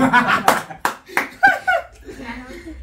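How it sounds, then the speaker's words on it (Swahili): A handful of sharp, close hand claps ring out in an uneven run, mixed with people talking and laughing. "Ni wapi wanapiga makofi jamani?"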